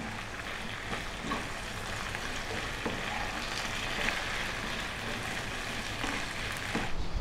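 Chopped onion with salt sizzles in a pan over medium heat, a steady, even crackling hiss that carries on without break, with no voices.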